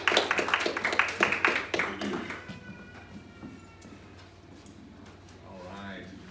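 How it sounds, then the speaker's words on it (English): An audience applauds to welcome a speaker onto the stage: dense, fairly loud clapping for about two seconds that quickly thins out and fades, leaving a quieter room with faint murmuring. "But just let's applaud and welcome him to the stage."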